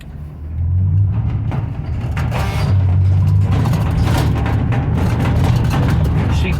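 A Nissan NV2500 van driving a loop around a gravel yard, its engine a steady loud rumble that rises as it accelerates, close by and with no voices over it.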